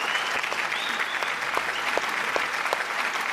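An audience claps at the Chittara Star Awards 2024 ceremony for Ashwini Puneeth Rajkumar, dense steady applause with individual claps standing out, plus a faint voice in the background.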